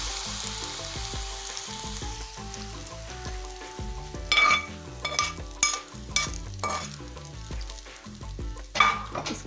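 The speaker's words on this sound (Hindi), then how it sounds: "इस अचार के ऊपर हम ये बघार डाल देंगे।" Hot tempering poured over grated carrot pickle sizzles and crackles in bursts, with a spoon stirring and metal utensils clinking close by; no one speaks.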